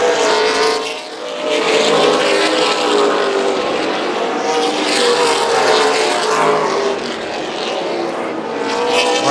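Super Late Model race cars thunder past on the front straightaway at Tucson Speedway, engines screaming loud and close in a sustained roar that swells as the pack passes.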